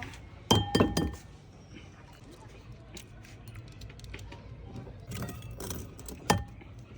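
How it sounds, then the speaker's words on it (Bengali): An egg cracked open in a home kitchen while making a Bengali raskadam sweet, heard as two sharp clinking knocks close together near the start and another single crack near the end, over quiet room noise. "এবার আমি ডিমটা ফাটিয়ে নেব"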